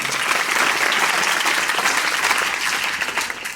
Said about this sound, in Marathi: ह्या शिक्षकांसाठी टाळ्या झाल्याच पाहिजे